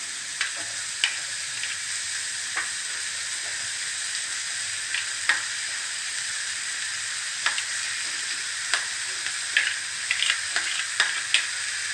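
Potatoes fry in a pan with turmeric, ground coriander and cumin, giving a loud, even, continuous sizzle close by, broken by occasional light stirring clicks; no one speaks.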